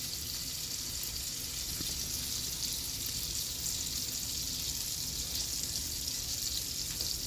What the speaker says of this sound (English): going to put half a stick of butter in this pan and get that going.